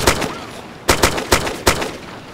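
Gunfire in the survival video game DayZ. A quick double shot rings out, then after a short pause three more sharp, loud reports follow at uneven intervals, each with a brief ringing tail.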